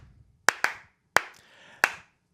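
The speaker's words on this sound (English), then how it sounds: "Slow clap." Four sharp, deliberate hand claps land at uneven, slow intervals, each a crisp close-up smack with a brief ringing tail in an otherwise quiet room.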